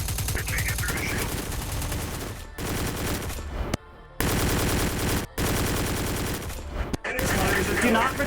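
Heavy sustained automatic gunfire in the Mayday RP game, long loud rattling bursts broken by a few brief gaps, close and dominating, with voices faintly under it.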